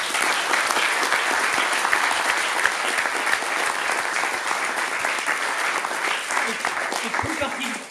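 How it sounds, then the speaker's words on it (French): Audience at a French conference on animal protection gives sustained, even applause, dense clapping at a steady level from start to finish. "Cela mérite de nouveau, je pense, nos applaudissements."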